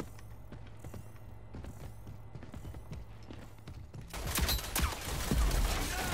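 Gunfire erupts in Rogue Company after a stretch of quieter mechanical clicks and footsteps, a dense burst of loud, close shots over the final two seconds.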